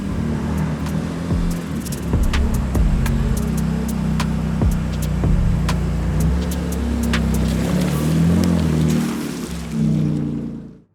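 A Renault Kadjar's engine hums loudly and steadily close by as it drives in, with scattered light clicks and rattles, then cuts off abruptly at the end.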